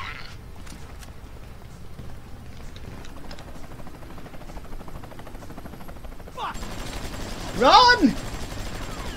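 Burst of gunfire in Grand Theft Auto V game play, a quick loud volley near the end after a stretch of quieter game ambience, with a voice shouting briefly.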